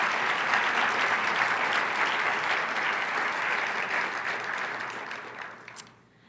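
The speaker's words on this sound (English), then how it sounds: "Let's give him a round of applause for creating such a thoughtful image" Audience at a Martin Luther King Jr. celebration breaking into a sustained round of applause, a steady dense wash of clapping that gradually thins and fades out toward the end.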